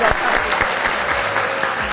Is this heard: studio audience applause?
yes